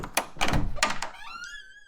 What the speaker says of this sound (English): And then the door opened.